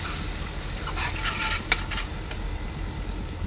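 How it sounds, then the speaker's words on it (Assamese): Ground garam masala, cumin, coriander and Kashmiri red chilli fry in a pan with scraping stirs over a low, steady sizzle and one sharp clink. "এইখিনি আকৌ অলপ সময় ভালদৰে ভাজিম"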